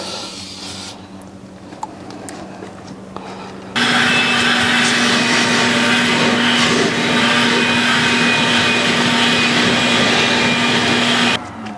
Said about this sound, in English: if you have a wet dry vac, then you can come back over it with the foaming bubbles